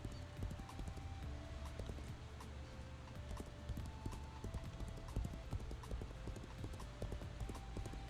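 Horse hooves clip-clop steadily in the video game Legends of Aria, a quick even trotting rhythm of hard taps over a low game ambience with faint tonal music, fairly quiet and without speech.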